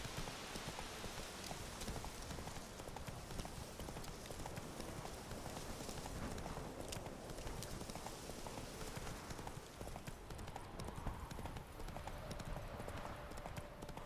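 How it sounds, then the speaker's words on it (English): A herd of horses gallops in The Witcher 3, a dense and steady drumming of many hooves that keeps up through the whole stretch, with faint voices mixed underneath. "Ooh, lots of horses."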